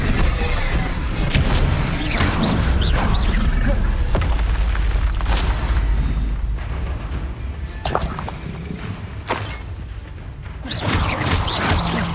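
Bombarda explosive spell blasts in the Hogwarts Legacy video game, heavy booming impacts and rumbling at the start, then scattered sharp cracks and thuds amid ongoing combat noise.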